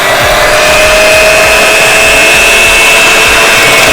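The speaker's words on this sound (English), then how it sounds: "Now we're going to give this a whisk. We're going to start off low first and then we're going to go on high." Electric whisk mixing mango ice cream mixture, a steady loud motor whine with a constant tone running throughout, no talk.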